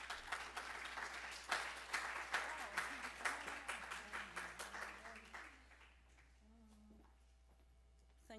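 An audience at an evening talk claps warmly for a speaker, a dense, steady burst of applause that fades after several seconds as a voice begins speaking.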